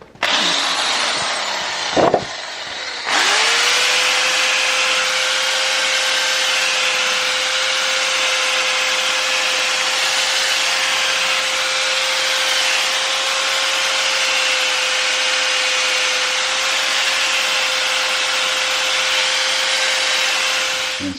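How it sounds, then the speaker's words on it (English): Wire wheel attachment spun by a power drill to clean a BMW brake hub, a loud continuous abrasive whir with a steady motor tone after a brief start-up and stop. "give the hub a good clean up, just with the wire wheel attachment on a drill"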